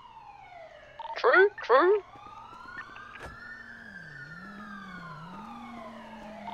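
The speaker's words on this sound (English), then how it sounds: "Those sirens sound fucked. They sound close. Sound close, and a lot of them." Several emergency sirens wail in a video game, their long rising and falling tones running steadily through the whole stretch, close and layered, while a brief burst of chirpy voice-like sound cuts in near the start.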